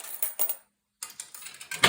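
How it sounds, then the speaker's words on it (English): A quarter drops into the coin mechanism of a Model S Skee-Ball machine, giving a quick burst of small metallic clicks and rattles, a brief silence, then a further run of mechanical clatter ending in a louder clack. "We'll drop a quarter."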